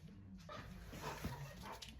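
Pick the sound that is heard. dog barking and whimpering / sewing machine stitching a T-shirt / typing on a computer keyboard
dog barking and whimpering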